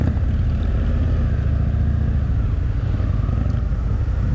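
Indian FTR 1200 motorcycle engine while riding in standard mode, a loud, low rumbling drone under wind noise, steady and continuous without voices.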